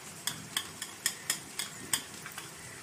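Spices and turmeric with green chilli, curry leaves and ginger fry in a pan for okra kadhi, heard as a faint steady sizzle broken by about ten sharp scraping stirs in a loose rhythm, with no talk.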